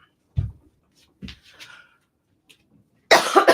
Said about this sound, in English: I'm going to take a chest clearing cough.